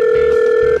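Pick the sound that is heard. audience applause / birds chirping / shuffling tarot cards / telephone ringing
telephone ringing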